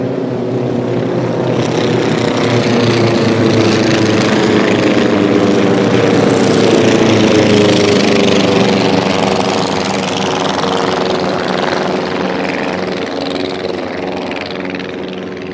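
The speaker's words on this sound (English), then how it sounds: "The planes are taking off." Propeller air race planes taking off in Thailand, a loud continuous drone of several aircraft engines building and holding steady, close and powerful, then easing slightly as they move away.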